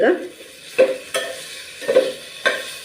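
Okra cooks on a banana leaf in a pan, giving a low sizzle broken by several soft stirring or shifting sounds at irregular intervals.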